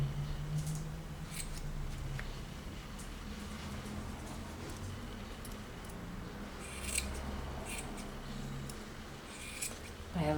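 Scissors snip through felt doll hair in a quiet craft setting, giving a series of soft, close cutting sounds spread over a low background hum.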